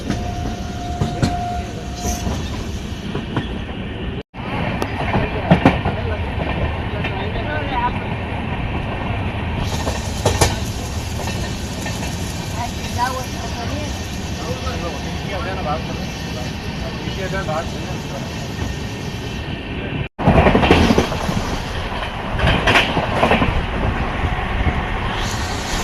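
The Sabarmati - Jaisalmer SF Express rolls steadily along the rails with a loud continuous rumble and faint clatter from start to finish, heard from aboard, with voices talking over it.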